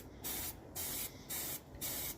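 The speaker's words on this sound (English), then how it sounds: "where I start spraying up here so that I get that lip" Four short, even bursts of spray paint hiss onto a tumbler, each about a quarter second long with brief pauses between them, close and fairly quiet.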